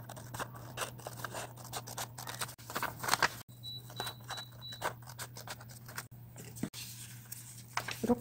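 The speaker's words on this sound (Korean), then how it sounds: "선을 따라 가위로 잘라줍니다." Scissors cut folded colored paper along a line, close and quiet, with a run of small snipping and crisp paper rustling over a faint steady hum; no talking.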